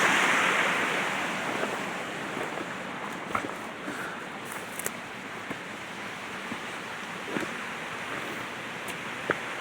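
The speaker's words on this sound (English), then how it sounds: "There's actual kind of 3 waterfalls in here." Rain-swollen water pouring over a spillway in three separate falls into a foaming pool, a steady broadband roar that stays loud and close throughout, with a few soft knocks and bumps now and then.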